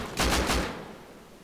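Gunfire in the survival video game Rust: a quick burst of about three loud shots in rapid succession, then a fading tail with no talking over it.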